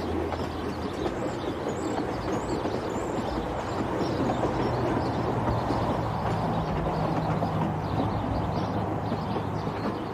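A train rolls steadily on a trip to Georgia, a constant low rumble and rushing noise with faint rhythmic rail clatter, even and unbroken from start to finish.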